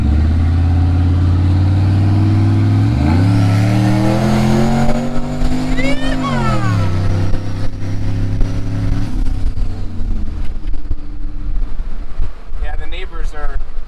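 A turbocharged Chevrolet Avalanche truck with an LS cam swap and its exhaust cutout open revs loudly and up close, its pitch climbing hard, holding, then dropping away into a rough idle.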